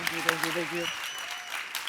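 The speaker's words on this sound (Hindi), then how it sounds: "के लिए जोरदार तालियां।" A comedy talk-show studio audience breaks into loud applause as a guest is welcomed, the clapping continuing steadily after a brief spoken phrase at the start.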